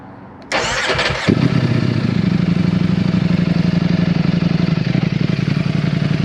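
A motorcycle engine starts up: a short click and cranking whir, then it catches and settles into a loud, steady, close idle.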